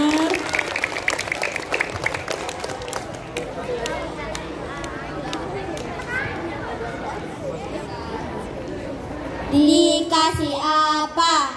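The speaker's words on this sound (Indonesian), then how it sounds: "Mana tepuk tangannya?" Applause from a school audience after a poetry recital at a Grade 6 literacy performance, scattered and light with chatter and children's voices mixed in, followed near the end by a presenter speaking close to the microphone.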